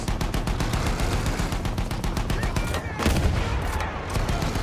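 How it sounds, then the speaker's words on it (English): Dense battlefield gunfire in Battlefield 1's Through Mud and Blood mission: rapid, steady automatic shots crackle nonstop over a loud, rumbling combat backdrop, with heavier blasts standing out near the end. "Why are you shooting at me?"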